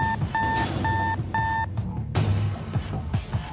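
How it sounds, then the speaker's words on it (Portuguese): A laboratory freezer alarm sounds four evenly spaced electronic beeps in a steady rhythm, loud and close, followed by a stretch of background noise and rustling. "Irritado com um bip do freezer de um laboratório"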